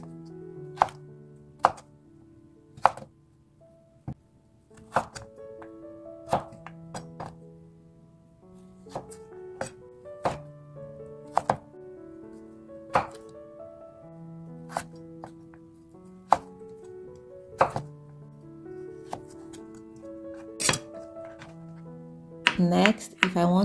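Raw carrots being cut with a knife on a board, a series of crisp separate chops at an uneven pace, close and clear over a quiet background, with a louder flurry of cuts near the end.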